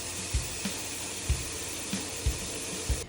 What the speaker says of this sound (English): We have to fill this up with water.